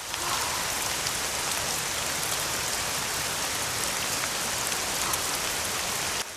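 A sudden rain shower in a Korean melodrama film scene, a steady, loud hiss of rain pouring onto surfaces that holds evenly throughout and cuts off abruptly at the end.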